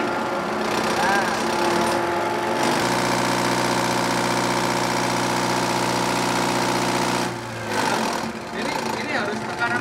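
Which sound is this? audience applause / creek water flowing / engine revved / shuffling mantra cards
engine revved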